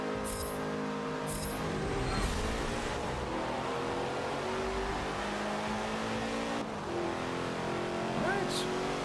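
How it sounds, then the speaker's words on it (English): A race car engine in a driving video game drones steadily with shifting pitch as it revs and accelerates, faint tire noise underneath. "now we're finally at a racetrack, ready to race a car real quick here"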